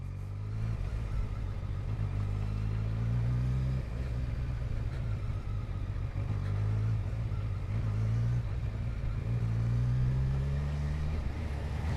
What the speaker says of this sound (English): it's got a nice engine sound, it's got a nice engine, a well-renowned engine.